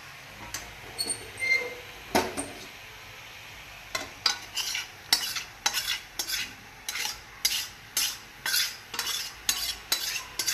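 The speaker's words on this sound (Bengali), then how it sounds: "তো দেখো বাঁধাকপিটা কষানো হচ্ছে আর এইদিকে আমার মাছের তেলটাও ভালো করে ভাজা হয়ে গেছে" Cabbage being stir-fried with fresh fish oil in a pan, a rhythmic run of sharp spatula scrapes and clinks over a low sizzle, close and fairly loud, with no speech.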